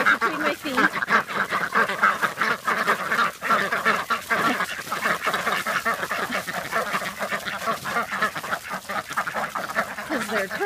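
A crowded flock of ducks quacks nonstop at feeding time near the duck pen, a dense, loud, close chorus of overlapping calls with a few honking notes mixed in.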